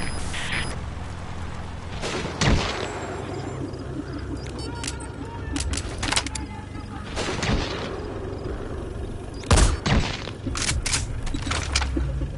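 Soldiers open fire in Metal Gear Solid V, with several loud gunshot bursts and booms spread across the stretch over a rumbling game background, while voices speak in places.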